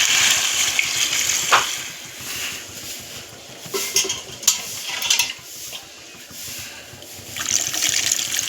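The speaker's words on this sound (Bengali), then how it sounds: "এবারে আমি জল দিয়ে দেব।" Water poured into a pan of fish curry with cauliflower and potato, an uneven trickling, splashing pour with bursts of gush and brief pauses, close and moderately loud, no talking.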